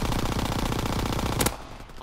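Sustained machine gun fire in a video game match on the London Docks map, rapid steady bursts, loud and dense, cutting off abruptly near the end, with no talk.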